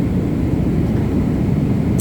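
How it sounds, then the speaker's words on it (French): Steady, loud airplane cabin drone on a flight from Manila, a continuous low, rumbling roar with no breaks and no voices. "Présentement, nous sommes dans l'avion."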